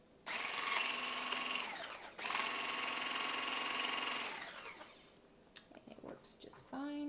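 A MegaWise 5-in-1 immersion hand blender runs in two loud, steady whirring bursts with a brief pause between them, then winds down into faint clicks and handling noise.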